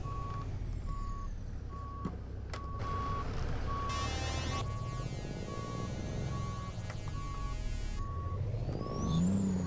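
Steady reversing beeps pulse from a Kenworth W900 truck backing into a street in American Truck Simulator, evenly spaced over a continuous diesel rumble with brief hissing air-brake bursts, no talk.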